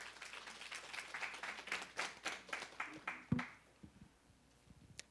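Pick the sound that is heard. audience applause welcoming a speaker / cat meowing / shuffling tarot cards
audience applause welcoming a speaker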